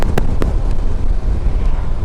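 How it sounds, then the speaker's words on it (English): Steady roaring wind buffeting a microphone while riding a 2012 Yamaha V Star 950 Tourer motorcycle, a constant low rumble with a few brief sharper bursts, no talking. "I don't hear the exhaust. I hear the wind."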